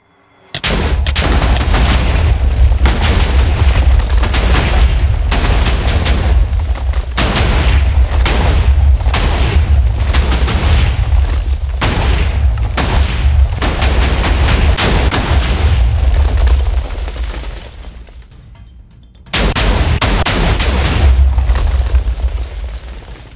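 Massive TNT explosions in a video game make a loud, continuous barrage of overlapping booms and blasts, breaking off briefly near the end before the roaring detonations resume.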